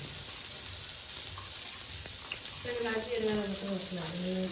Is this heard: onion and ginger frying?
yes